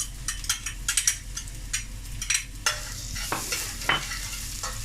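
Steady sizzling of ginger and garlic frying in a pan, with frequent quick scraping and stirring strokes close by.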